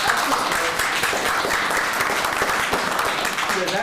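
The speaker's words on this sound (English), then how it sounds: "give her a round of applause" A room of attendees at a county commissioners' board meeting claps for a prosecutor, a steady, moderately loud round of applause with a few audible voices under the clapping.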